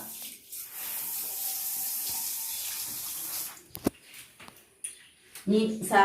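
Water is poured over a bathroom floor, running and splashing steadily for a few seconds, then stops, followed by short knocks and a person speaking.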